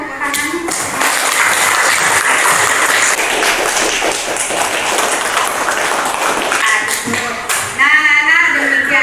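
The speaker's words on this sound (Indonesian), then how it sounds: "Ayo kita berikan tepuk tangan." Students applaud together in a classroom, with steady, dense clapping that fills the room and stays close and loud for several seconds. Voices rise briefly near the end as it fades.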